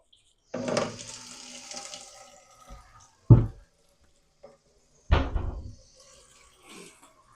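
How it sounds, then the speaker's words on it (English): Water drained from underground plumbing lines while winterizing a bathroom gushes and splashes into a bucket in a steady rush, then fades, followed by two sharp knocks or thuds with brief splashing after. "the water is running underground all through this, these lines into this bucket"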